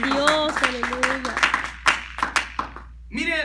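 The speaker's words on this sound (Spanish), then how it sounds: "fuerte aplauso al Padre" Clapping at a church service, scattered and light, heard under a preacher's singing voice and speech that carry through most of the moment.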